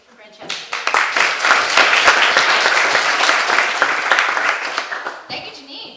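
Audience applause at a youth court graduation ceremony in Putnam County, New York: a dense burst of clapping rises quickly, holds steady for several seconds, then tapers off, with faint voices underneath.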